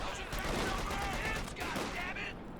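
Machine gun fire in a Company of Heroes 2 match, dense continuous rattling bursts blended with other battle noise and explosions, with a commentator's voice running over the top throughout.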